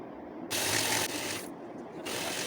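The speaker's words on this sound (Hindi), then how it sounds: "अभी 3 अंडे हैं जो 1 बाय 1 हम इसमें ऐड करते जाएंगे और बीट करते जाएंगे" Butter and sugar for an almond cake beaten with eggs, a close, steady whirring and scraping that surges loud in bursts and eases off between them, with no voices.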